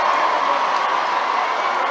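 Rugby crowd cheering as the Varsity match between Leeds Beckett and Leeds University reaches its final seconds, a steady loud roar of many voices with no breaks.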